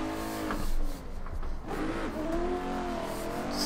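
A drift car on a practice run, its engine revving hard with pitch climbing and dipping through the gears, and tire noise mixed in, fairly close and steady throughout.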